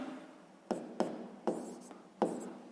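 A pen writes on paper in a few short, scratchy strokes with small gaps between them, close and quiet during a sixth-grade maths exercise.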